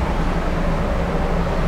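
A tuned car's engine straining on a dyno and failing to rev up, a loud, dense roar held at a constant drone with a low rumbling tone, heard close with no speech.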